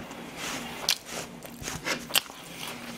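Someone bites into crunchy fried chicken, including fried, soy-glazed, roasted and barbecue pieces, and chews it close to the mic, with two sharp crunches over a steady wet chewing and crackling.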